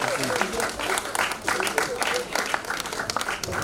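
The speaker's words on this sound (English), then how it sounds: "Please keep clapping until he steps out." Audience at an International Women's Day celebration clapping steadily throughout, a dense continuous applause with voices mixed in underneath.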